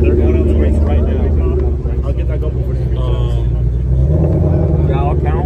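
Tesla Plaid and single-turbo Mustang lining up for a street race in Mexico, steady loud engine rumble and idle drone close by, with people talking over it throughout.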